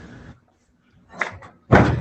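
A car door that is stuck is forced open with a few dull clunks and thuds. A heavier bang follows at the end, close by and with no voices.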